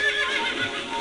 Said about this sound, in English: I'm back on my horse.